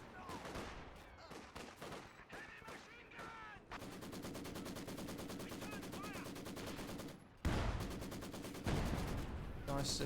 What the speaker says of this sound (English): Combo engineer is possibly about to die to the double LMG 42 combo